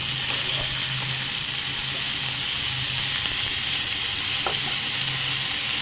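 Cabbage stir-frying in a pan gives a constant close sizzle, with faint scrapes and taps of a spatula now and then as it is moved around.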